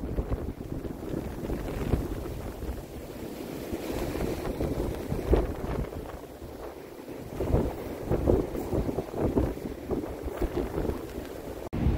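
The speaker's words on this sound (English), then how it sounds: "The winds are still gusting way over 100, maybe 120 at times." Strong blizzard wind gusting hard and continuously, roaring with heavy buffeting against the microphone, surging louder and easing in waves throughout, with no voices.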